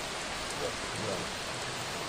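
Loud, steady rain in the stealth game The Dark Mod, a dense unbroken hiss of falling water filling the whole scene with no other sounds standing out.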